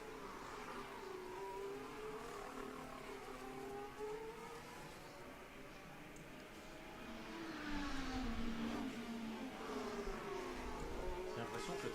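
Lewis Hamilton's Formula 1 car on a qualifying lap at the 2024 Hungarian Grand Prix, a high engine whine rising and falling through gear changes, distant and faint, mixed with crowd and broadcast ambience.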